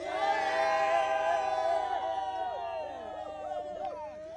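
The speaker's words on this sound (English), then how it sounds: "Round of applause" A crowd at a cricket grand final cheers as the trophy is presented: loud, overlapping shouts and whoops from many voices rise together, then break into scattered yells and calls.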